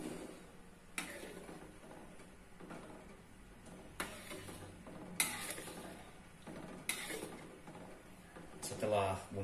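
A utensil stirs Indomie goreng noodles with their packet seasoning in a pan, making intermittent clacks and scrapes at irregular intervals over a quiet background.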